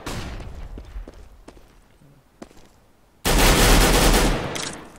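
Gunfire and a grenade blast in the video game Counter-Strike: Global Offensive: a few sharp distant shots and clicks, then a sudden loud, sustained burst of explosive noise that slowly fades.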